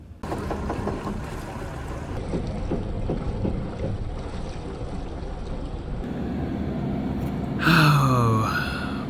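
A strange mechanical noise comes from a boat while its port engine runs in reverse, a steady rumbling drone with rhythmic knocking, followed near the end by a louder, sweeping whine that bends down in pitch.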